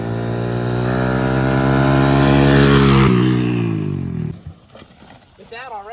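A Honda CRF100 dirt bike fitted with a cheap nitrous kit, its engine howling loud and close at full throttle with a slipping clutch, pitch climbing then cutting out abruptly, followed by rough idling and voices.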